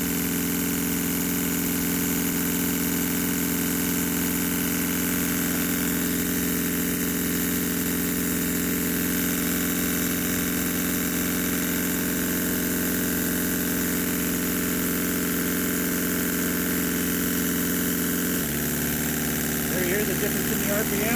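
A twin-cylinder marine steam engine running on air with a flyball governor, giving a steady, continuous mechanical hum and chuffing at constant speed close up, with a shift in tone near the end as the running speed changes.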